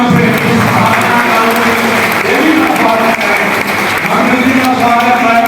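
Loud, steady applause from an audience at a community assembly in India, with voices mixed in under the clapping.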